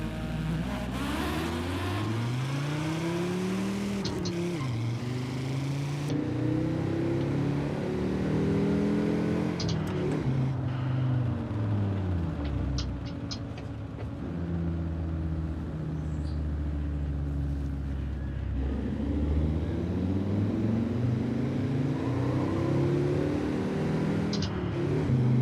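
A Ford Transit van engine revs and races in the Forza 5 driving game, a loud continuous drone that rises and falls in pitch with repeated acceleration sweeps, close and steady throughout.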